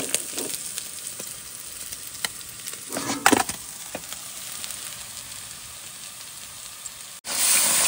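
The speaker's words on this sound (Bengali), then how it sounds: "আবার আস্তে আস্তে সব মাছগুলো ভেজে নেবো।" Fish frying in oil in a pan at night on a gas stove, a steady loud sizzle and crackle with a few sharp pops and spatters throughout.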